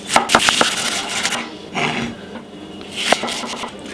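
A white onion being sliced into thin strips with a knife on a cutting board, giving quick bursts of crisp chopping taps separated by brief pauses, close and clear with no voices.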